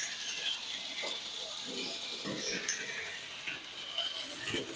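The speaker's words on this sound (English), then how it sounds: "So we'll run the locomotive here for a second." Bachmann N scale toy train locomotive from a Spirit of Christmas set running on its track, a faint continuous ticking and gear whir, small and quiet with some background noise.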